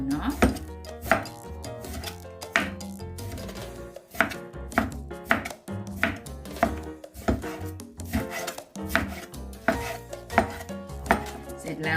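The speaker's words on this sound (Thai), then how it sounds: "มาหั่นไก่อย่างนี้เลย" Steady rapid knife chops on a cutting board, hard thuds and scrapes through hard frozen chicken, close and continuous, with music-like tonal background and no speech.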